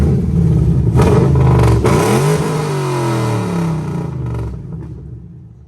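A car engine fitted with TSP headers revs hard while parked: a loud, close roar climbs quickly, holds, then sweeps back down and fades toward idle.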